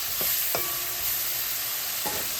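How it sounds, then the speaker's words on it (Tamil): Cabbage sautéing in a frying pan, with a steady low sizzle throughout and a few sharp stirring scrapes against the pan, recorded close with no talking. "இப்போ இது வதங்கினோடனே கோவாவையும் போட்டு வதக்க வேணும்."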